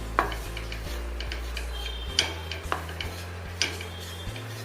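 Mawa roasting in a kadai over a medium flame while a spoon scrapes and stirs it, giving sharp metallic clinks and taps at an uneven pace over a steady low hum.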